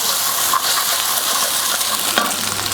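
Spatula scraping the bottom of a pan while eggs scramble for egg fried rice on a Kamado Joe grill, a continuous frying sizzle with a few sharp scrape accents and no voices.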